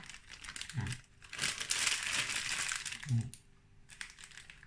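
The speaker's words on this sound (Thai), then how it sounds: "แปะกระดาษไขไว้ข้างบน" Wax paper crinkles as it is laid over a buttercream base used for piping frozen roses for cake decorating, giving close, crisp rustles with a few soft taps and no talking.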